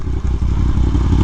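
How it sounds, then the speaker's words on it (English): A Yamaha R1M motorcycle's Toast exhaust roars loud and close in a brief hard pull, a dense rumbling growl that lasts just over a second. "Give you guys a little pull in the end to hear that beautiful toast exhaust."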